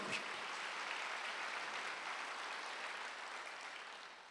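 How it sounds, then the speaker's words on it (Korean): Church congregation applauding during a Wednesday worship service, a steady wash of many hands clapping that fills the room and fades slightly toward the end, with no talk over it. "박수 한번 해주세요"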